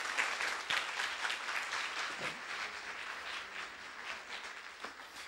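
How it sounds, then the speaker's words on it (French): A church congregation applauds a child named Jasmine during a service, steady sustained clapping from many hands filling the room for several seconds without talk. "Est-ce qu'on peut applaudir Jasmine?"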